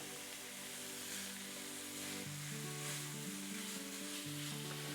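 Ground meat and onions sizzling in a pan, a steady close crackling sizzle with faint stirring and a low background tone underneath, no voices.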